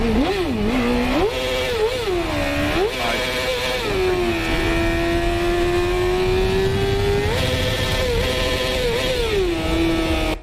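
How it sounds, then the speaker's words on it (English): Sport bike engine revving hard, pitch sweeping up and down in repeated blips before holding a sustained high rev, loud and close throughout. "Oh, we're revving again."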